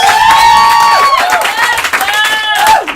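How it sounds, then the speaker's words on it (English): An audience applauds loudly for Mel Taylor, dense clapping mixed with loud, high whooping cheers that rise and fall throughout. "Massive round of applause for Mel Taylor, please!"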